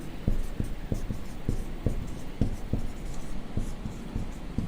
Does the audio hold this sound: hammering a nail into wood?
no